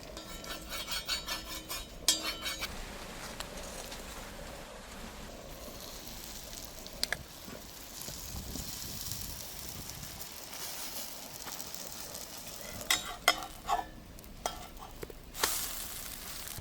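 Sprinkled oil sizzles faintly under an omelette of egg, rice, flattened rice and puffed rice in a pan, with intermittent scraping and clinks of a utensil against the cookware.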